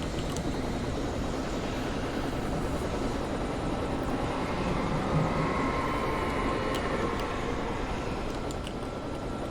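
Helicopter in the video game Alan Wake, a steady dense rotor-and-engine roar that holds loud and unbroken throughout, with no talk over it.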